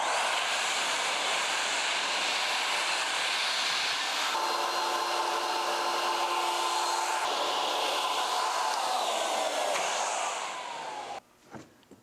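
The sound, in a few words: Ruwac Red Line industrial vacuum machine running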